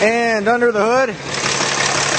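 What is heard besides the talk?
2009 Dodge Ram 3500 engine idling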